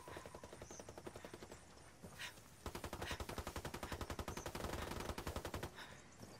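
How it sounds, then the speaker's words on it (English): Rapid machine-gun bursts from a ranked online shooter match, loud repeated clattering volleys with a short pause before a longer sustained stream of fire, no talking. "Under heavy fire."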